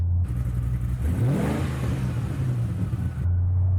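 Cammed 2005 Mustang GT with a replacement 4.75-liter V8 and exhaust cut-outs, idling loud and close, then revving up sharply and holding before settling back to a lumpy idle.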